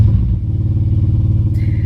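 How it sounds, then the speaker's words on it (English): A motorcycle engine rumbles close by, a steady low throbbing drone that holds at a loud, even level for a couple of seconds. "Motorcycle."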